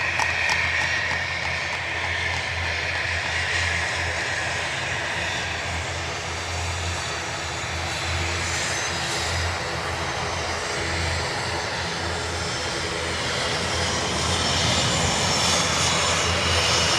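An ATR turboprop airliner's engines roar close by at Dublin Airport, a loud, continuous drone with a steady low throb that stays even throughout and covers everything else.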